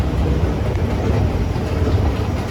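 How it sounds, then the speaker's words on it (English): A metro train in Mansoura pulls into Albida station with a continuous, close rumble of wheels on rails that stays loud and steady throughout. "the train will be arriving"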